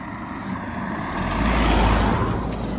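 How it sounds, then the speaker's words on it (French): A car passes along a road in Scotland, its engine and tyre noise swelling to a rumbling peak midway and easing slightly as it goes by, heard from the roadside. "Il y avait une voiture donc je me suis arrêtée."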